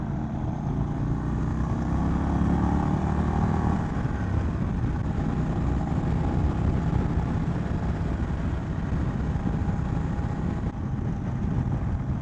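A 2022 Indian Chief motorcycle with a Stage 2 engine is being ridden, its steady engine drone mixed with rushing wind noise, loud and continuous throughout with no break.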